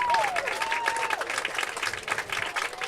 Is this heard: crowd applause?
yes